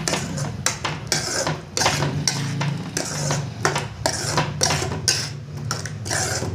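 Egg being stirred in a pan for egg idly fry, a run of sharp metallic scrapes and clinks from a utensil against the pan at an uneven rhythm.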